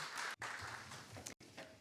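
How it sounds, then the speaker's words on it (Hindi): Congregation applause at a Sunday church service as a guest is welcomed to the stage, a dense wash of many hands clapping steadily, broken by two abrupt gaps. "असी तालियां दे नाल स्वागत करिए"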